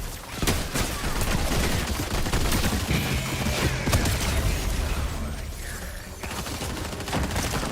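Rapid bursts of gunfire in a Fortnite ranked solo match, dense sharp shots crackling almost continuously at close range, with no talking over them.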